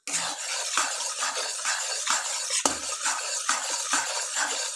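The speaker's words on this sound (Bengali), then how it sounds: "এটাকে নাড়তে থাকবেন।" Spices dry-roasting in a pan are stirred continuously, giving a steady series of close scraping strokes roughly every half second, with a faint crackle underneath and no talk.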